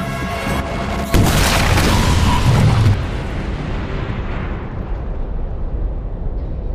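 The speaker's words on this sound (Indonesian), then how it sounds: "Ledakan besar yang tidak pernah David bayangkan sebelumnya" A big explosion erupts after a short rumbling lead-in, a loud roaring blast that holds for a couple of seconds before fading into a long, decaying low rumble.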